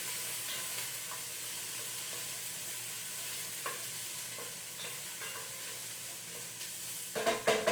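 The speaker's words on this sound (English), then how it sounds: "I'm going to give my mirepoix here a little stir" Mirepoix vegetables sizzle in a pot for minestrone soup, a faint steady frying hiss with soft scrapes of stirring, then a louder burst of clatter near the end.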